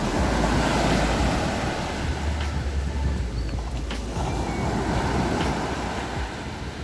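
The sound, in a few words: sea waves hitting the shore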